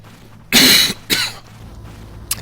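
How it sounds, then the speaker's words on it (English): A person coughs close to the microphone, one harsh burst followed by a shorter second cough and a faint final catch, over quiet background hum. "Cover your ears, folks. I'm going to cough."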